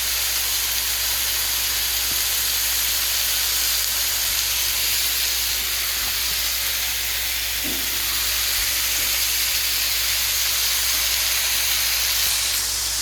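Bison meat sears in a hot pan for a Texas stew, giving a steady, continuous sizzle and hiss throughout with no talking and only a faint thump partway through.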